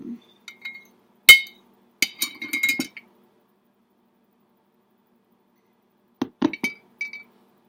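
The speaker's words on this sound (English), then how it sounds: "These crayons are not melting very well, but I'll just keep stirring them." Crayons are stirred in a glass container to melt them, giving bright, sharp clinks and scraping taps in two short clusters separated by a long silence. The sounds are close and there is no talk.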